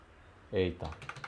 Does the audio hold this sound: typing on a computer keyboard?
yes